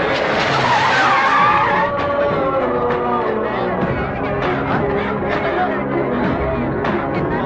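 A car speeding on a road and skidding, loud tire screech and engine roar near at first, then settling into rumbling motion with overlapping voices and music-like tones.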